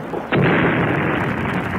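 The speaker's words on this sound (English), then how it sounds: "At the last moment, he dives into the water as the boats collide with a gigantic explosion." A huge explosion as two boats collide bursts in suddenly after a short quiet lead-in, then roars on as a dense, loud rumble that fills the rest of the moment.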